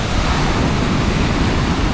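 Ocean surf breaking on a steep beach at Playa Zicatela, Puerto Escondido, Mexico, a loud, continuous wash of waves with a steady roar and some wind noise, no voices.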